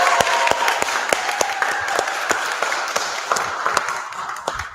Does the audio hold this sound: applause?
yes